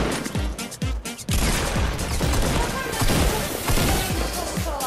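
Gunfire and sniper shots from a Fortnite Battle Royale match sound as a rapid, dense volley of loud, sharp cracks and bursts, continuing almost without pause.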